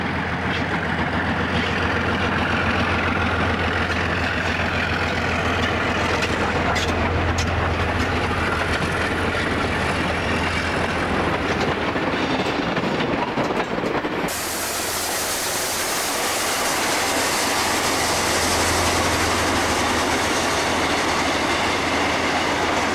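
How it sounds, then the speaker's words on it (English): Steam locomotives 4887 and 5367 working together on a down empty stock train near Ard Glen, New South Wales, in May 1966, giving a continuous loud rumbling roar and rail noise throughout with no speech. "May 1966 and 4887 leads 5367 with a down empty stock train near Ard Glen."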